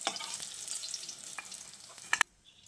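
Nigella seeds and two dried red chillies crackle and sizzle in hot oil left over from frying aubergines, a steady close frying hiss with scattered pops and a couple of sharp clatters near the end before it cuts off.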